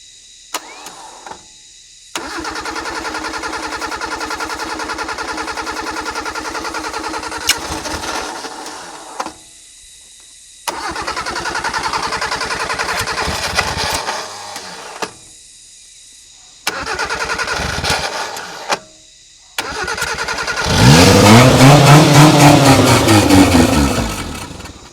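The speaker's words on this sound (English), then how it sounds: "Have to give it a few revs, never going to idle." An old Suzuki truck engine, throttle sticking open and air in the fuel line, fires in several sputtering bursts separated by silent stalls, then ends with a loud, close rev that swells and falls.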